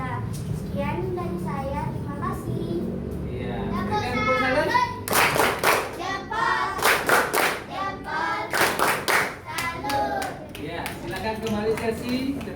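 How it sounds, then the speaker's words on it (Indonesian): A classroom group, children's voices among them, claps hands in bursts of sharp, rhythmic slaps after earlier chatter, with speech continuing around and between the clapping. "Berikan tepuk tangan."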